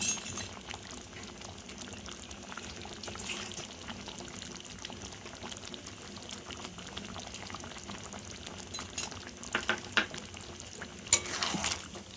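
A thick chicken curry with fresh cashew paste and chilli, made with gondhoraj lemon, being stirred in a pot: a steady low bubbling simmer with faint scraping and occasional clinks of a spoon, quiet and continuous.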